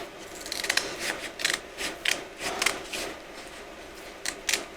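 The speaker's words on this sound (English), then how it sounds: "I'm going to cut this cardboard" Scissors cutting a piece of cardboard from packing material: a series of about ten crisp, close snips in an uneven rhythm, each a short crunchy cut.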